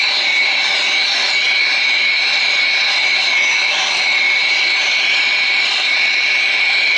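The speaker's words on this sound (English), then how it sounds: "fire up the turbo torch" A turbo torch heating an old water pump sleeve roars with a steady, loud, hissing rush that holds constant and close throughout, with no talking.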